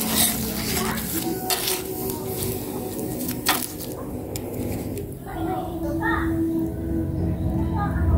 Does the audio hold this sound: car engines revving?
no